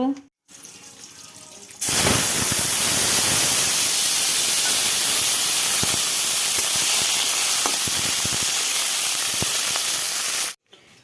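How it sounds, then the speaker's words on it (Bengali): Pumpkin flower fritters sizzle in hot oil in a Bengali village kitchen, a steady loud frying hiss running almost the whole time with faint clicks, after a short quieter opening. "এখানে মিষ্টি কুমড়া ফুলের বড়া হচ্ছে"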